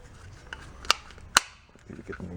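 Two sharp plastic pops as locks are snapped out of their cams on a weed trimmer, close and distinct amid light handling clicks.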